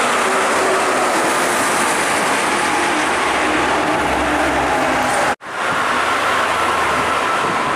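A PO Raya intercity bus passes on the Trans-Java toll road, a loud, close, continuous roar of engine and tyres with a sharp momentary gap before the rush resumes.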